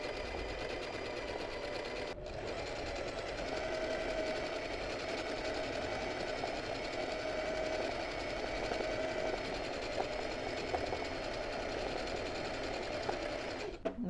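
Sewing machine running a steady straight stitch for freehand embroidery, a continuous close mechanical whir with an even fast needle rhythm and only a brief pause near the start.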